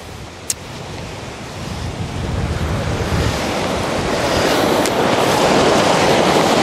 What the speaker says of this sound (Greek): θα προτιμούσα να μην φυσάει καθόλου, αλλά δεν γίνεται